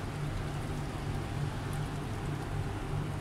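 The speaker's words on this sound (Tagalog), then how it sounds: "Kasi delikado ang ulan na to, baka magkasakit kayo." Rain falling steadily in hot, humid weather, a soft continuous patter with a low hum underneath, even and unbroken with no voices.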